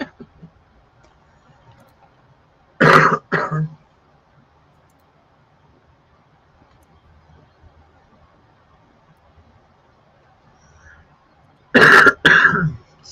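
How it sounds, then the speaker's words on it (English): A person coughs and clears their throat twice during a casual livestream chat, each burst short and close, separated by about nine seconds of near silence. "I'm still trying to get over the cough"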